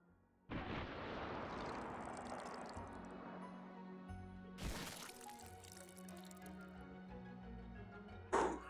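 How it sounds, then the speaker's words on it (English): Flashbang grenades go off in the VR shooter Hot Dogs, Horseshoes & Hand Grenades: a sharp burst opens into a long ringing wash, a second blast hits midway and a third crack comes near the end, loud and close with no talk. "Ah, flashbangs."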